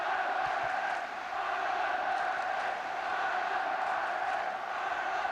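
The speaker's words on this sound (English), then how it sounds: "That's Flugler, and that's the crowd" A large football stadium crowd at a 1989 international match between the Republic of Ireland and West Germany roars steadily, a dense, sustained wall of cheering and chanting with no break.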